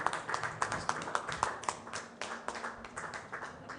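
Scattered hands clapping at a sports festival press meet, distinct individual claps in a loose irregular rhythm, fairly faint and thin, with a few voices murmuring in the background.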